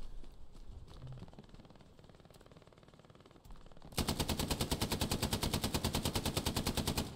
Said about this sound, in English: There's an MG on the right hand silo again